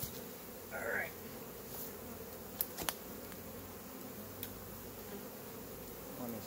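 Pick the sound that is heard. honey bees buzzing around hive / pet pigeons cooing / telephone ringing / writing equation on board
honey bees buzzing around hive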